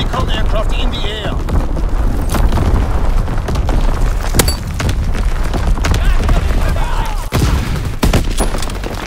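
Incoming enemy artillery in a Call of Duty WWII battle lands in repeated sharp blasts and booms amid scattered gunfire, loud and close, with voices calling out over the chaos.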